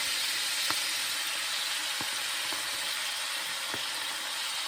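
Collard greens sizzle steadily in a hot skillet, a continuous close hiss with a few faint clinks and taps from handling as they go in; no talking.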